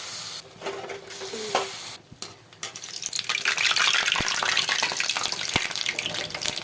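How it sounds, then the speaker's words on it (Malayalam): Batter-coated dates are dropped into hot oil, with a few clinks and handling noises before a loud, dense frying hiss swells up and continues close by, punctuated by occasional sharp ticks. "ചൂടായ എണ്ണയിൽ ഓരോന്നായിട്ട് കോരി ഒഴിക്കാം."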